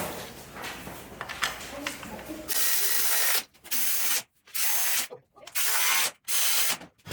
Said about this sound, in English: Now I can put the washers back on those bolts and go ahead and start torquing these down.